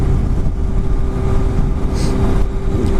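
A Honda CBR600RR motorcycle with 9,000 miles and a full Akrapovic exhaust system idles close by, a loud, steady, rumbling engine drone with a faint whistle partway through.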